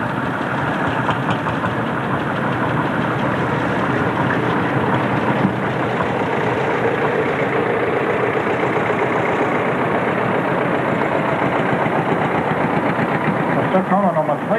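A vintage 20-horsepower Danish tractor engine, maxing out at 750 rpm, runs steadily at a 1989 tractor rally in Brørup, giving a continuous loud knocking chug with a rough mechanical texture throughout.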